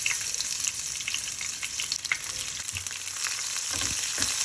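Onions frying in olive oil in a pan, a steady close sizzle and crackle with faint stirring and some low clatter near the end, no one talking.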